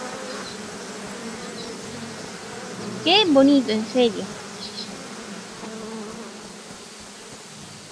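In a garden within the horse-racing video game Rival Stars Horse Racing, bees and insects hum in a constant low drone, with a voice speaking briefly over it midway.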